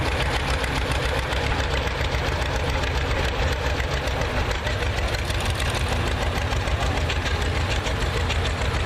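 A John Deere Model B tractor runs steadily at a parade, its engine giving a continuous, fairly loud knocking chug throughout with no talk over it.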